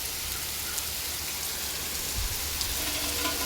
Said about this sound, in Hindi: बरसात देखो क्या झमाझम हो रही है